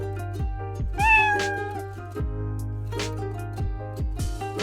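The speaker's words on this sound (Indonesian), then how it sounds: "itu kurang lebih suara meow ya teman-teman" A cat meow sound effect plays in the Scratch programming environment, a series of close, loud, drawn-out meows repeating in overlapping succession with a strained, wailing quality.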